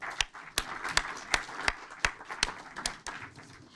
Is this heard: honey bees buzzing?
no